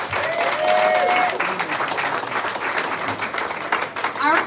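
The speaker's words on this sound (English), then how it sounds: "Big round of applause" An audience at a lodge charity ball raising funds for the Special Olympics breaks into a loud, sustained round of applause, with a few whoops and faint voices threaded through it.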